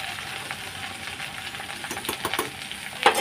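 Dal simmers in a pot with a low bubbling, sizzling hiss, growing busier toward the end with a few sharper crackles and clinks.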